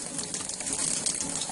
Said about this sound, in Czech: možná budu vypínat vodičku